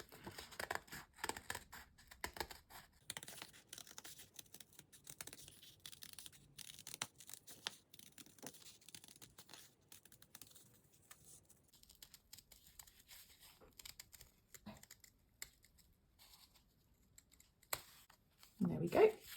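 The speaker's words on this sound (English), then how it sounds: "and then just cut this out" Scissors snipping through folded paper to cut out stacked circles for vintage handmade paper Christmas decorations, a run of quiet close crisp cuts and rustles, irregular and faint throughout, ending with a louder handling noise.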